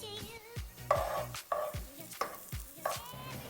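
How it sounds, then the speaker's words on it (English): Diced onion in vegetable oil in a saucepan, with rhythmic scraping and stirring strokes over a light sizzle, close and moderately loud, several evenly spaced bursts. "In a saucepan, you're gonna add some vegetable oil and your diced onion."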